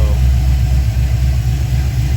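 A Plymouth Road Runner engine idles with a steady, deep, throbbing rumble that stays loud and close throughout.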